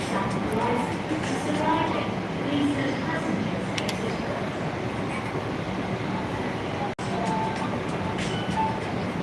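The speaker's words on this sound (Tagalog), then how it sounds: "Ayan na yung tren, oh." A Hong Kong subway train rumbles steadily along the tracks, a continuous loud roar with faint rattling throughout.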